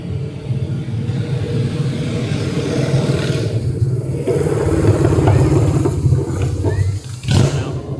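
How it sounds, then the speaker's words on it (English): A motorcycle passes outdoors near a national park area, a loud rumbling engine that swells and fades over several seconds as it goes by. "I hear a motorcycle."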